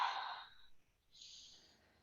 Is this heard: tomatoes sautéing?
no